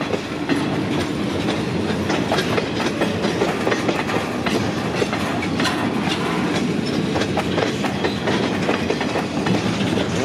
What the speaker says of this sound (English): And a full train heading south.